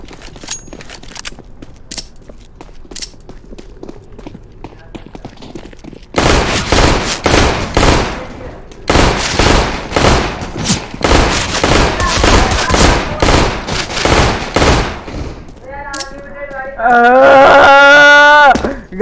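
Counter-Strike: Global Offensive gunfire, sustained bursts of rapid automatic shots in two long runs after a quieter stretch of game sounds, with people talking over it.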